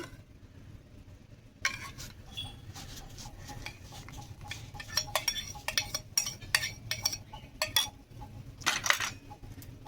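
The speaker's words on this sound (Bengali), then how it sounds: "ময়দার সঙ্গে টক দই ভালো করে আমি মাখিয়ে নেব" Clinking and scraping against a bowl as flour is mixed with sour yogurt by hand, irregular close knocks and rubs over a low background hum.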